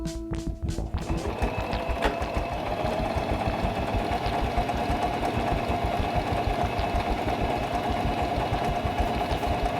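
A Singer mechanical sewing machine, stitch width set to 3, runs steadily through a full line of stitches with a fast, even mechanical chatter that stays close and loud, after a brief start-up at the beginning.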